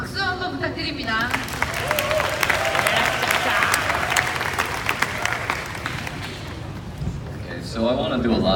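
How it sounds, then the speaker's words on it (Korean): An audience at a youth training event applauds loudly and steadily for several seconds, dense clapping mixed with crowd murmur, while a voice speaks over the start and end. "박수 한번 부탁드립니다."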